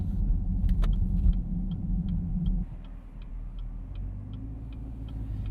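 A 2023 Chevrolet Camaro SS 1LE with an LT1 V8 and six-speed manual rolls over train tracks, its low engine rumble steady under a string of evenly spaced light ticks and clunks from the crossing.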